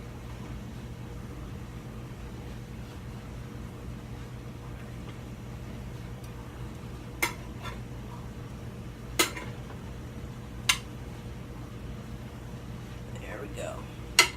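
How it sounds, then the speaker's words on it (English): Noodles stirred in a pot: a low steady hum runs throughout, broken by a few sharp metallic clinks of utensil against pot spaced several seconds apart. "gonna give it a stir around so the softer noodles are at the top"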